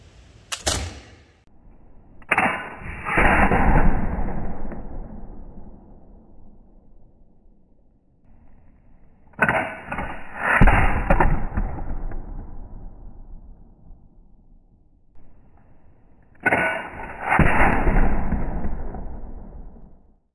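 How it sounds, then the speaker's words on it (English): A wheellock firearm's ignition mechanism firing three times: each release gives a sharp metallic snap, then a whirring, grinding spin of the wheel that fades over a few seconds, with quiet gaps between, close and without talk. "there we have the operation of the wheel lock"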